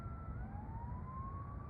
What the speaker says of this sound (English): Well, there's always sirens.